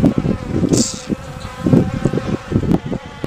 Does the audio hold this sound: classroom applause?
no